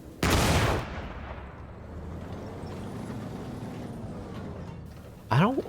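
Tank guns fire in the video game GHPC: a loud, sharp blast opens, followed by a long rumbling tail, then a second closer boom with a ringing whine near the end.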